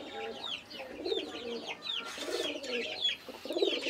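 Pigeons in a coop where they have laid eggs, cooing repeatedly in soft overlapping rolling calls close by, with faint chirps and fowl clucks mixed in.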